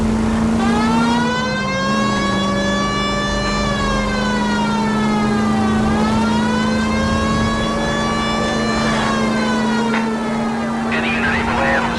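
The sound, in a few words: police car siren in the video game L.A. Noire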